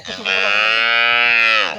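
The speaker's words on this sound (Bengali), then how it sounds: "এটা অরিজিনাল দুধের গাভী" A Friesian dairy cow gives one long, loud, close moo lasting nearly two seconds, rising at the start and holding steady before trailing off, with no other sounds around it.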